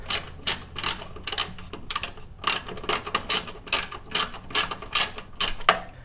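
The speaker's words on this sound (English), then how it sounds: "just unscrew it and lift it up" Ratchet clicks come in quick rhythmic bursts while a car's oil catch can, fitted with an On3 turbo kit, is unscrewed by hand tools. The clicking is close, crisp and repeated with short pauses between strokes, and nobody speaks.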